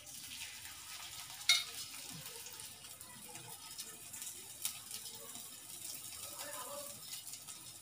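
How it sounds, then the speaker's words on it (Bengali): Flattened rice spread into warm ghee in a pan gives a faint, steady low sizzle with a couple of sharp clinks, while a voice murmurs quietly in the background. "আমি এবার ঘিয়ের ওপরে চিড়েগুলো আস্তে আস্তে ছড়িয়ে দিচ্ছি।"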